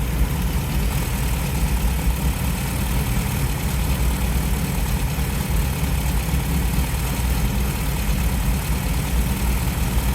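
An MGB GT engine idles steadily during carburettor balancing, a loud, continuous low rumble that holds even and unbroken throughout with no voices.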